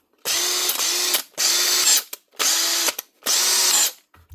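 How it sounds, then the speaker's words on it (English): A repaired Makita BHP452 cordless drill, fitted with a new motor, armature, brush holder and brushes, runs in four loud, close bursts of steady whirring, each about half a second to a second long with short pauses between. "One Makita drill with a new motor, new armature, new brush holder and new brushes"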